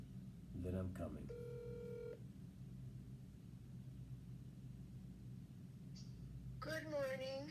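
A phone call being placed, with a short run of steady electronic dialing tones followed by a pause, then a warbling ring tone, heard close over constant low engine rumble from a moving car.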